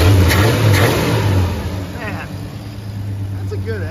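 A 1974 Plymouth Duster engine runs steadily after warm-up, with the idle screw turned out and a vacuum line plugged. A loud, low rumble rises at the start and then settles into a steady idle, with someone talking over it.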